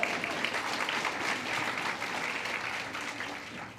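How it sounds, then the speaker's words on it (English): An audience at a sports awards ceremony applauds in a steady, dense clatter of many hands clapping together, holding an even level before tapering slightly at the end. "That deserves applause."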